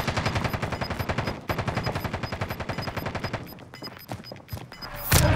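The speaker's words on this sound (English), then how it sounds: "Are you shooting at someone?" Rapid automatic gunfire in a Call of Duty-style Resurgence battle royale match, steady bursts of close, loud shots running for several seconds, then sparser scattered shots and a sharp louder blast at the end.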